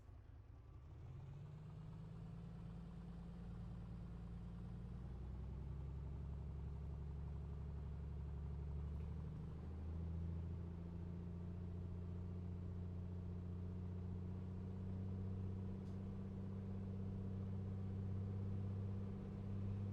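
Piper Comanche engine in the A2A flight simulator running up to 2,000 RPM, a steady low droning hum whose pitch climbs early on and shifts again midway, heard alone throughout.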